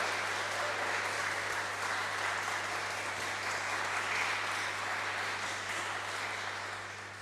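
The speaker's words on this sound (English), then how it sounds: "Another round of applause, I think" Audience applause after a live dance performance at a festive poetry evening, a dense, steady clapping from a crowd sustained throughout and tapering slightly at the close, with a low hum underneath.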